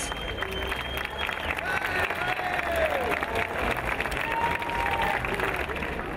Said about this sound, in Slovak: Veľký potlesk pre šermiarov Sarus